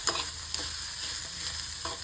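Grated coconut roasting in a pan for sambar is stirred with a spoon, giving soft scraping strokes at irregular intervals over a low, continuous sizzle.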